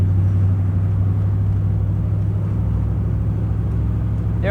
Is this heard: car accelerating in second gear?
yes